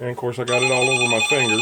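A loud electronic phone alert tone sounds steadily beneath a person talking, the high beeping ring persisting through the speech.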